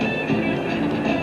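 Las Vegas Monorail train running, a steady loud rumble and hum of the car in motion with faint rail clatter, continuous throughout with no talking.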